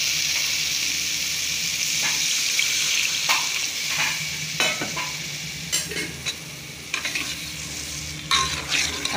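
Water goes into frying whole masoor lentils, setting off a steady loud sizzle, while a ladle stirs and scrapes the pan in repeated close, clattering strokes.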